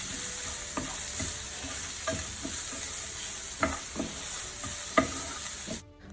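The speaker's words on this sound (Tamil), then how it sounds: "இப்போது இந்த ஸ்டேஜில் முந்திரி பருப்பையும் தேங்காவையும் சேர்த்துக்கலாம். ஒரு 3 மினிட்ஸ்க்கு இதை நல்லா ஃப்ரை பண்ணிக்கலாம்." Cashews and grated coconut frying for a Chettinad village-style mutton curry paste make a steady sizzle, with regular scraping strokes of a spoon stirring through the pan, and no one speaks. The sound cuts off suddenly at the end.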